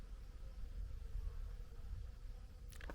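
A swarm of bees on a farm buzzing quietly in a steady, faint hum with low rumbling background, ending with a brief louder knock.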